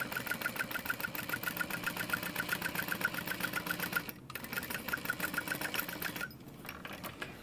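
Sewing machine running steadily, stitching a crossbody bag, with a fast, even needle chatter, brief pauses near the end, and no voices.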